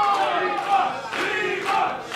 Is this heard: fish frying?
no